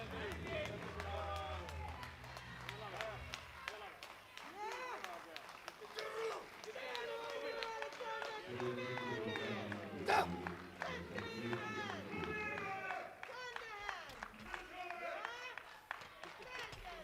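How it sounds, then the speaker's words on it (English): A Swedish crowd at a European classic powerlifting championship shouts and cheers a lifter on through a heavy attempt, dense overlapping yells and calls, loud and continuous, rising to a peak near the middle. "The Swedish crowd shouting him on"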